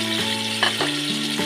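Tomatoes sizzle in a frying pan, a steady close-up hiss and fry with a soft scrape or two, alone without talk.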